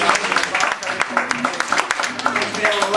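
Audience clapping during a Catalan children's storytelling show about a chestnut seller and a witch, dense and steady for a few seconds, close and lively.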